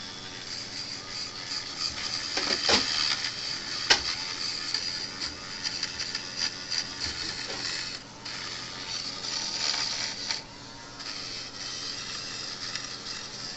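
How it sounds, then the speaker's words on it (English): Dremel rotary tool fitted with a wire brush, run at reduced speed, scrubs a circuit board in a Gallagher B200 unit, giving a steady, thin whirring and scratching with a few sharp clicks, fairly quiet and close. "We use a Dremel, the wire brush, and we're going to turn down the speed on it a little bit so it's not so aggressive."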